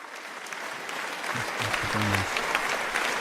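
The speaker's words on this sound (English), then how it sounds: "It's a nice little golf clap." A small, polite round of golf-style clapping, a handful of light claps spread over a few seconds against a steady hiss of room noise.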